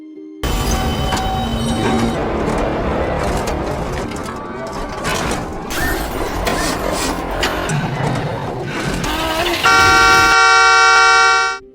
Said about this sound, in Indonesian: Lucy pun langsung menekan klakson mobilnya